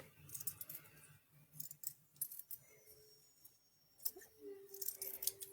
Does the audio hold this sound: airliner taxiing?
no